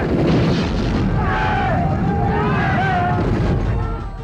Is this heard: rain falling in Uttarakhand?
no